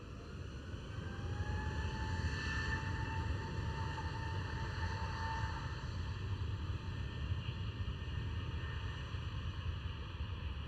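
A KLM Boeing 787-10 airliner at Schiphol airport produces a steady, loud, broadband jet roar with a rising engine whine, continuous throughout without any talk.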